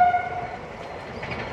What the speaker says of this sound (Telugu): చూడు ట్రైన్ వెళ్తాను, ట్రైన్ ట్రాక్ ఉంది పక్కనే